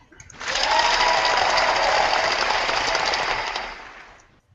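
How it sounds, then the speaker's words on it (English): A canned burst of applause swells in quickly, holds as a dense, bright wash of clapping for a few seconds, then fades away near the end. "Hit me with an applause."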